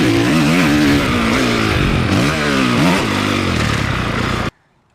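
Motocross motorcycle engine roaring loud and close through a jump scrub, revs rising and dipping in waves before cutting off abruptly.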